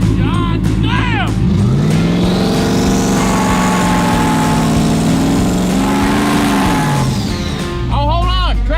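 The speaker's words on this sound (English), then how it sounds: "Them turbos sound so good." Twin-turbo mini V8 in a Ford Raptor revving loud and close, the engine note climbing and holding at high revs before dropping back, with excited voices breaking in at the start and end.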